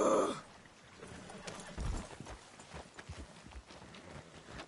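A horse in Red Dead Redemption 2 gives a short whinny at the start, followed by faint, uneven hoof clops and thuds.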